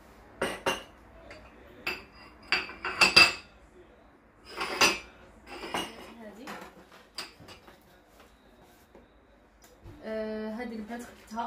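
Someone handles a metal serving set with small iron picks, making scattered close clinks and jingles of metal pieces, followed by a denser rattle near the end.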